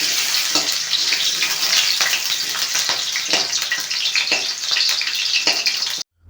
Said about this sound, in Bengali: তেলটা গরম হয়ে আসলেই ওর মধ্যে দিয়ে দিতে হবে কেটে রাখা আলুগুলোকে প্রথমে লাল লাল করে ভেজে নিতে হবে